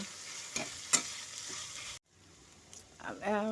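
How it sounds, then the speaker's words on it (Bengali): Cauliflower stalks frying in oil with turmeric over low to medium heat give a continuous soft sizzle, broken by a few utensil clinks and stirring scrapes, with a brief dip before the frying resumes. "হলুদ দিয়ে ভালো মতো করে তেলের সাথে কপির ডাঁটাটাকে ভাজা ভাজা করে নেব।"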